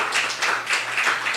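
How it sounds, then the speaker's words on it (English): A short burst of steady audience clapping at a memorial lecture, dense and even, heard alone for about a second and a half. "Please give her a round of applause."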